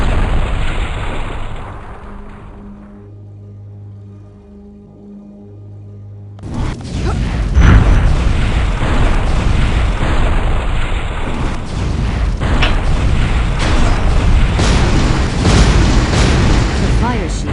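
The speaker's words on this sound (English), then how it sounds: "A stream of fireballs prevents anyone from going further." Fireball trap in the Wheel of Time game bursts into a loud, continuous roaring stream of blasts after a quieter stretch, sustained rumbling fire booms filling the rest of the hall.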